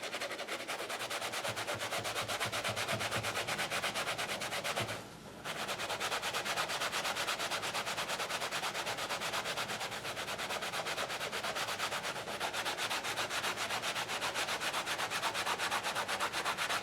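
A sponge is rubbed steadily along the seam of a leather Indiana Jones-style jacket being weathered. The close, continuous scrubbing hiss runs the whole length with only a brief pause midway, and no voices.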